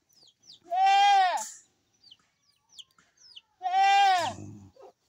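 A goat gives two loud, drawn-out bleats a few seconds apart, close by, with faint scattered sounds between them.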